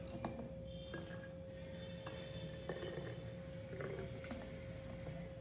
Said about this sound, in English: I'm gonna pour the vinegar into the bottle